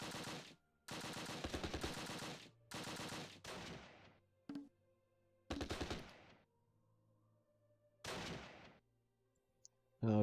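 Machine gun fire in the Close Combat wargame at Arnhem Heights, several long rattling bursts with pauses between them, loud and close, then a couple of shorter bursts later on.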